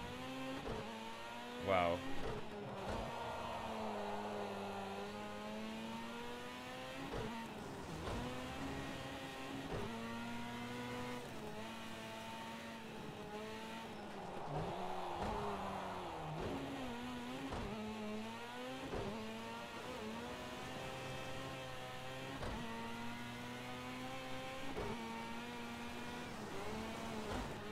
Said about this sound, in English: there's like basically no traction on these roads. So it's all drifting